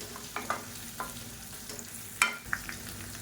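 Lumps of asafoetida spluttering in hot oil for a hotel-style sambar tempering: a soft sizzle bed with a few sharp pops and crackles, close and fairly quiet, no talk.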